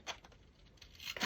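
Scissors snip through paper while cutting out a bird gift tag, a few short crisp cuts close by, the last ones louder, with no talking.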